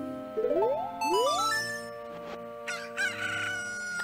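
A Cucco chicken from Zelda Ocarina of Time crows in rising cock-a-doodle-doo sweeps, followed by bright jingling chimes and a sparkling game tone, loud and alone.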